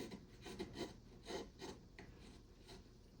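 A chisel carving cottonwood bark, shaving off fine curls in a few short, quiet rasping strokes, close and faint with no voices.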